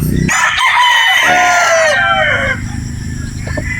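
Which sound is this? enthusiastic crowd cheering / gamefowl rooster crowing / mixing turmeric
gamefowl rooster crowing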